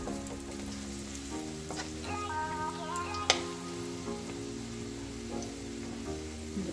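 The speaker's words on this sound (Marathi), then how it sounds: "याला जास्त नाही तळायचं आहे, 2 मिनिटच तळायचं" Barule, an Aligarh-style stuffed snack, fry in hot oil for a couple of minutes, a steady crackling sizzle with soft pops and one sharp clink partway through, close and continuous with no talk.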